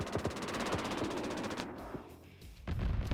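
A gunship in a video game firing rapid bursts, a fast rattling stream of shots followed by pauses and a second short burst, fairly faint.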